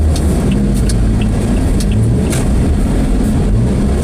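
Highway car traffic in the Philippines heard from inside a moving vehicle, a loud continuous low engine and road rumble with light rattles, no voices.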